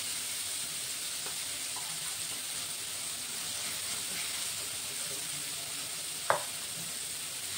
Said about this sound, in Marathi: तर चांगलं परतून घेते आता हा मसाला।